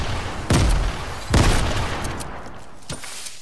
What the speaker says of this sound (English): Bro, stop with the grenades, it won't work.